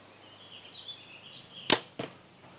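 Arrow loosed from a bow with a hinge release during target practice, one sharp crack of the shot followed by a quick second thud, with a faint high whine just before.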